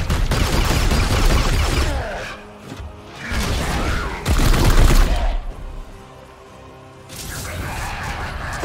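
Loud, dense bursts of rapid gunfire from the video game Warhammer 40,000: Chaos Gate – Daemonhunters come in several volleys separated by short lulls.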